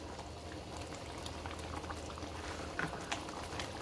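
Chicken broth simmering in a pot of mole verde, a steady close bubbling and gurgling that runs throughout with a few louder pops near the end.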